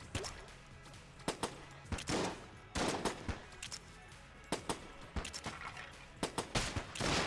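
Derringer pistol shots in the Enter the Gungeon video game, a string of sharp, irregularly spaced cracks, some in quick doubles, mixed with other game gunfire and impacts at moderate loudness, with no talking.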